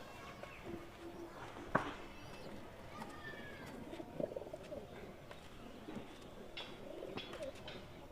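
Pigeons in a loft give soft, repeated throaty coos at close range, with occasional rustling and shuffling around them and faint background noise.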